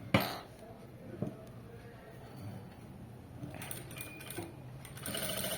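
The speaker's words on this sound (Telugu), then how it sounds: "ఇలా క్రాస్ కట్ స్టిచ్ చేసేస్తే సరిపోతుంది" A sewing machine stitching lace, running in steady mechanical bursts with a whirring drone, plus a few handling clicks and knocks nearby, at a fairly quiet level.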